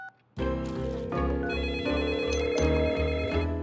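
A telephone rings for an incoming call on a talk-show line in an animated series, with a loud, bright electronic ringtone that starts abruptly after a brief pause and repeats in steady pulses.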